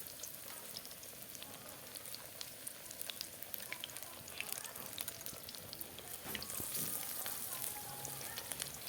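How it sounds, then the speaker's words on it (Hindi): Slices of spiced eggplant (brinjal) fry in hot oil with a continuous, fairly faint crackling sizzle that grows slightly denser toward the end, with no voices over it. "पकौड़े हमने बना लिए हैं, तो जो बैंगन मसाला हमने बनाया था, चलिए बैंगन भी फ्राई कर लेते हैं।"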